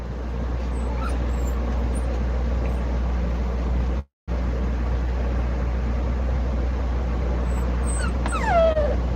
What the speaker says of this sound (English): If you're talking about the crying noise, they're puppies.